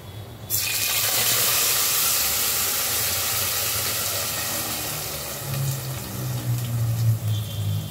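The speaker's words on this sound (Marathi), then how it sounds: "आपण आता जी प्युरी बनवलेली ना टोमॅटो आणि कांदा ती आपण ह्याच तेलात ऍड करूया" Tomato and onion puree hits hot oil in a pan, a sudden loud hiss that holds steady, then bubbles and sputters more unevenly toward the end.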